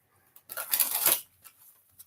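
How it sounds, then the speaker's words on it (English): A deck of Urban Tarot cards is shuffled up close in a single brisk riffle of about a second, with softer handling rustles before and after and no speech. "One more shuffle on this Urban Tarot."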